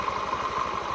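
A Honda Scoopy FI motorcycle engine idles at about 1,500 rpm, a short, steady, faint hum with a soft, even low pulse and no talking.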